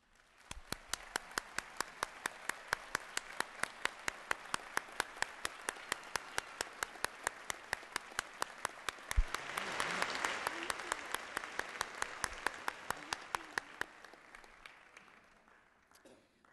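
At a law school commencement at West Virginia University, the crowd applauds the graduates' parents with sustained, fairly distant clapping. A sharp, evenly spaced clicking runs through it, and the applause swells midway before fading.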